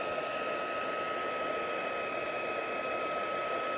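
A heat tool blows steadily while melting embossing powder on copper, a constant close whirring hiss with a faint tonal whine and no pauses.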